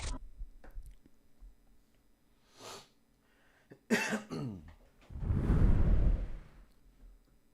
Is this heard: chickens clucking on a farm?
no